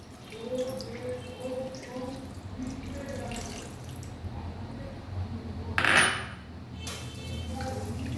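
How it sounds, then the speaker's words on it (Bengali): A bowl of water is poured into a pan of steamed hilsa fish, giving a brief, close gush and splash after several seconds of faint clinks and kitchen background, with no talking. "ঢাকাটা খুলে দিলাম, দিয়ে আমি 1 বাউল জল দিয়ে দেবো।"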